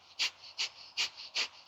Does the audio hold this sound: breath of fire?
yes